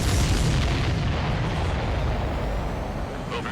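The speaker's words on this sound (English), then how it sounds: "That's a confirmed direct hit by the missile." Missile detonation in the jet combat game Ace Combat 7, a loud close rumbling boom that rolls on as a dense, slowly fading roar of noise.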